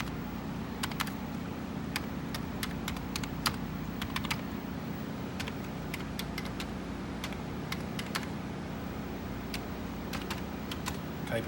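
Keys on a computer keyboard click in quick, uneven bursts over a steady low hum from nearby electronics, the typing close and fairly faint with no talking.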